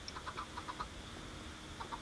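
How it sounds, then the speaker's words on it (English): Chickens clucking in the Minecraft Tekkit video game, a few short quiet clucks in quick bursts over a low steady background hiss. "there's 2 chickens got out"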